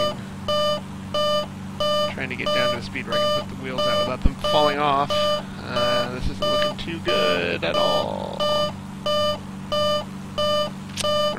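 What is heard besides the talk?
cockpit warning beeping in flight simulator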